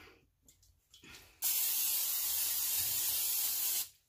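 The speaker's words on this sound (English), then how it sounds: "I have my cooking spray here. And I'm just going to" After a few faint rustles, a can of cooking spray sprays in one continuous hiss lasting over two seconds, close and fairly loud, then stops.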